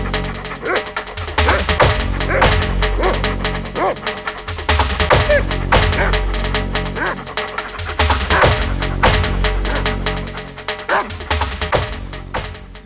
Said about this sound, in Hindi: गांव के कुत्ते गोमायू के पीछे पड़ गए।